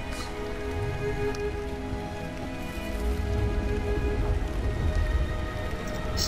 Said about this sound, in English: This is actually good rain effects.